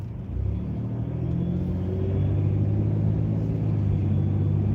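A car rolls along a road and gradually slows down, giving a steady, moderately loud low rumble of engine and tire noise from inside the cabin, with no talking.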